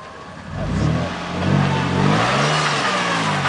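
An off-road vehicle's engine revs up in rising and falling surges while crawling over rocks on the Metal Masher trail in Moab, loud and close with no talking.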